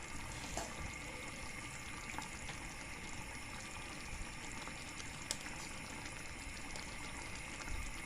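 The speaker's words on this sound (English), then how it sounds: "I'm just going to strain this rice out now." Cooked rice strained of its water, a steady broad rush of pouring liquid running continuously and fairly close, with small clinks and splashes, no voices.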